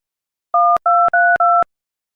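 Four short, evenly spaced two-tone telephone beeps sound clearly against silence in an animated horror story, each one clean and loud, like a phone being dialed.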